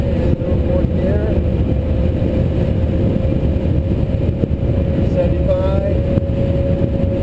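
Electric conversion car accelerating in fourth gear on Interstate 5, giving a steady, loud road and drivetrain roar with a faint motor whine throughout, while someone speaks briefly over it.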